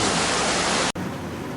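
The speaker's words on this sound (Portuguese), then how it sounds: "É uma chuva serena, tranquila." Steady rain pours down evenly as a dense, continuous hiss, loud and close, then briefly cuts out and returns slightly softer, with no voices over it.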